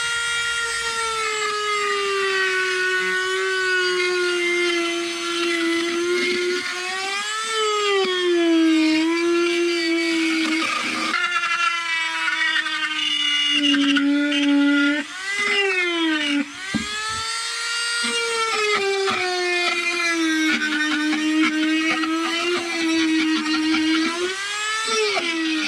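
A Dremel flex shaft spins a Kutzall burr into wood, giving a sustained high whine that bends in pitch as pressure changes, with a couple of brief dips where the cut eases.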